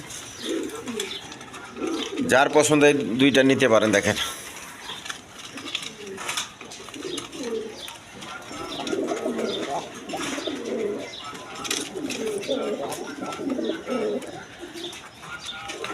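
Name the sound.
pigeons cooing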